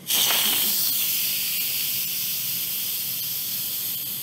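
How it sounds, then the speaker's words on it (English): An Instant Pot Rio pressure cooker vents steam during a quick release: a loud hiss bursts out at once and then holds as a steady, strong jet of steam, fading only slightly toward the end. "So as you can see, this steam came out at a jet, kind of at an angle."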